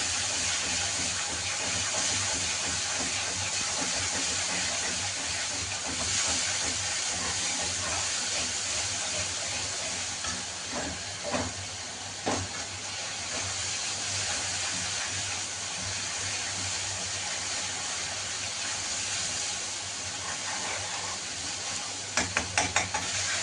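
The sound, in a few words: spices frying and being stirred in a pan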